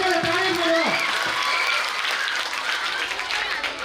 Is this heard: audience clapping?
yes